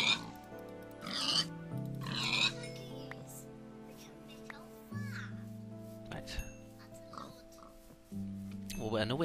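Pigs oink in Minecraft, grunting in short calls among other animal noises over steady game music, while a person talks throughout.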